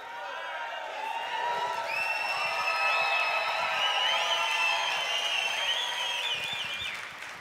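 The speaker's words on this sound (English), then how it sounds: "Thank you all for the applause." Audience applause and cheering at a company event, a steady wash of clapping with whoops and crowd voices, sustained at moderate level before fading slightly at the end.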